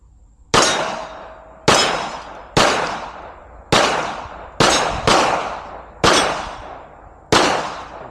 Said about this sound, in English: Don't mind the shooting.